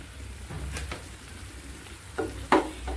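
Red poya sea fish frying in oil, a steady close sizzle with a few sharp spatters and utensil clicks toward the end.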